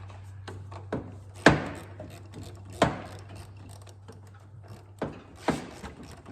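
A ratchet tightens the motor mount bolts on a 2007 Honda Accord, producing several sharp clicking pulls with quieter ratcheting between them, close and distinct over a low steady hum.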